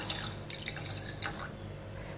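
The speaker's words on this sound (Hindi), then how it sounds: "यहाँ पे मैंने लिया है 1 कप शुगर और साथ ही में डाल रही हूँ यहाँ पे 3/4 कप पानी।" Water poured into a pan holding a cup of sugar to make sugar syrup, a steady close trickle with small splashy drips over a continuous low background hum.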